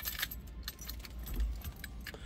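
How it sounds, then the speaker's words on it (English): Ignition keys of a 1970 Cadillac Coupe DeVille jangle and clink in quick, close bursts, with a soft background hum. "got the ignition key here"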